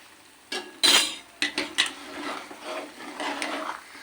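A utensil stirs and scrapes a thick jaggery Mysore Pak mixture with ghee in a metal pan, giving several close clinks and scrapes in an uneven rhythm, fairly quiet.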